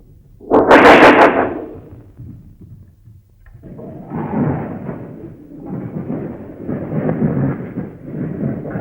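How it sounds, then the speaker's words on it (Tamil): A heavy thunderclap booms and rumbles at the start of a stormy film scene. After a pause, a dense, noisy wash of rain and wind rises and carries on steadily to the end. "ஐயோ மழை பெய்கிறது"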